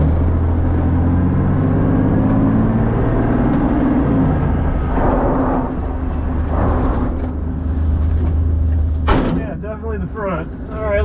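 A resurrected Ford F150 pickup truck rumbling with a low, steady engine note, followed by a loud door-like thump near the end and a voice talking briefly.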